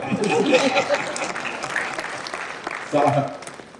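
Audience applause at a Hindi comedy poetry recital (kavi sammelan), a crowd clapping in a burst that fades and swells again, with a voice speaking over part of it.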